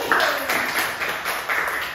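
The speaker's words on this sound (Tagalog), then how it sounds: "bigyan ng palakpak si Mervin!" A classroom group claps in a short, brisk burst of close, quick hand claps, dense at first and then thinning over about two seconds.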